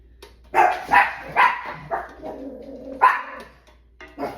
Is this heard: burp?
no